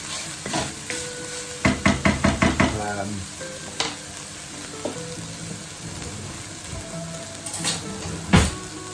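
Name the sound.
bacon frying in a pan while being stirred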